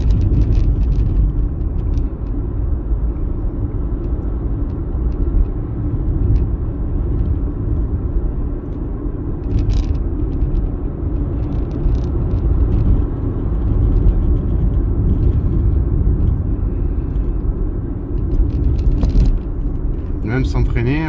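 A Dacia Spring electric car drives along a road, its tyre and road rumble and soft motor whir continuous throughout, while someone talks over the steady cabin noise.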